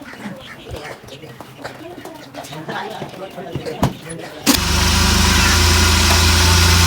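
People talk near a gate over faint background noise, then a car engine starts loud and close and holds a steady roar as the car is driven out through the gate.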